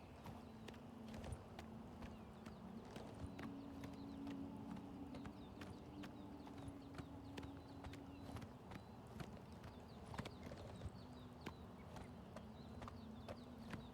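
Horse hooves clip-clop steadily in the Oblivion video game, a continuous rhythmic run of hoof beats over a low ambient hum, with no talk.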